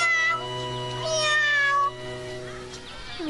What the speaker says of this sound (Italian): Allora che ne sarà di questo gattino?